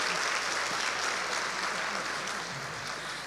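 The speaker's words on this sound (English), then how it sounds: "So let's give a round of applause for all the talented young people" Audience applauding talented young people at a gospel music master class, a steady dense wash of clapping that holds strong throughout and eases slightly toward the end, with no talk over it.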